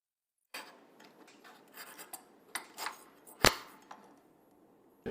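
Hand-filing metal after cutting with a jeweler's saw for a Damascus steel Chinese jian, heard as close, uneven rasping strokes with light scrapes and one sharp clank partway through.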